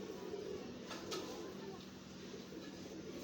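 Pigeons coo softly in a low, continuous murmur from a loft or stand where birds are kept, with a few brief louder sounds mixed in and faint talk in the background.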